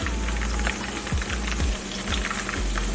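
Seasonings sizzling in hot frying oil, being prepared for frying red snapper: a continuous dense crackle and hiss with scattered pops and a steady low hum, close and fairly loud.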